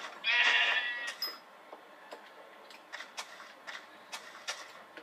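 A sheep in the video game Minecraft gives a single fairly loud bleat near the start, followed by a series of light, irregular ticking taps against a quiet background.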